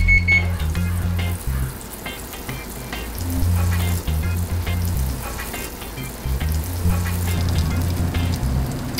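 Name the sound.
butter sizzling in a pan for sauteing shrimp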